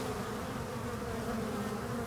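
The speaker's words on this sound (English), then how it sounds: "These are like guard bees, and they're just working that entrance." Guard bees buzz at a hive entrance in a steady, close, unbroken drone with a clear humming tone and no voices.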